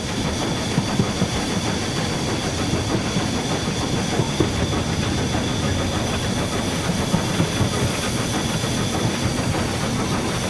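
A steam locomotive on a heritage line works hard as its regulator is opened, giving a loud, continuous rumbling chuff and rail noise with steady texture throughout, close by and with no voices.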